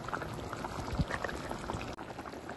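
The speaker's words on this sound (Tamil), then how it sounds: "நல்லா கொதிக்குது" Continuous bubbling and popping of fish curry at a rolling boil in a pot, close and steady, with no voices.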